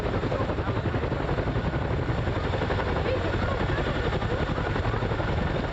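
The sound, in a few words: military helicopter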